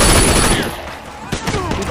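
Gunfire in the video game Sleeping Dogs, a dense burst of rapid shots up front that thins into scattered sharper reports, loud and close over a busy game soundscape.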